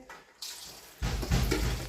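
Tap water runs into a sink as vegetables and potatoes are washed for pav bhaji, starting softly then swelling into a loud, steady gush in the second half.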